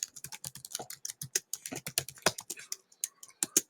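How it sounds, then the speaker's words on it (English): Rapid typing on a computer keyboard, with dense irregular clicks and taps at close range, briefly pausing and then resuming, with no talking. "Type in the chapter section."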